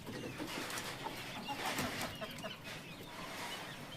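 Chickens on a small poultry farm, including American Bahama Silkies, clucking and calling softly over a busy background of shuffling and faint farm noise, nearby and quiet.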